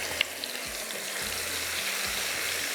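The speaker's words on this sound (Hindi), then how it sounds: "अब प्याज डालते हैं" Ground onion added to oil in a pan gives off a steady, even hiss of frying that stays constant throughout, with a faint low hum beneath and no speech.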